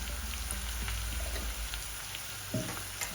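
Chopped onions and curry leaves sizzle in hot oil in a pan while wheat upma is being prepared, a steady close crackle with occasional louder pops and light stirring, and no talking.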